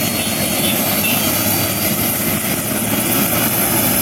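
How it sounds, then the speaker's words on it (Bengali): A helicopter sits at a district helipad in Tangail, its engine and rotor making a loud, continuous, even roar that fills the whole stretch with no break. "পাশেই দেখা যাচ্ছে হেলিকপ্টার।"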